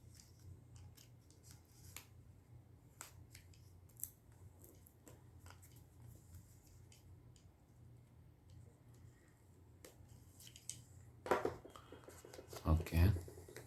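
Box cutter blade slicing open Game & Watch The Legend of Zelda packaging, a quiet run of faint scratchy taps that builds into louder, sharper cutting scrapes near the end, with soft rustling between.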